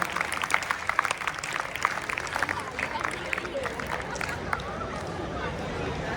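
School prize distribution crowd clapping to welcome a winner on stage, a dense steady patter of many hands at moderate distance, with a voice speaking over it.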